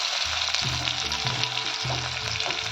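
Onion dropped into hot oil already crackling with cumin, mustard seeds and curry leaves, giving a dense, constant sizzle with a low bubbling undertone, close and steady throughout, no talking.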